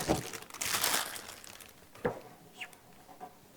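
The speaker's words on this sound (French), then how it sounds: "On va tout déballer." Packaging crinkles and rustles while a Thermalright Frozen Edge 360 water cooler box is unpacked, a loud burst of rustling up close followed by a few softer, sparse crinkles.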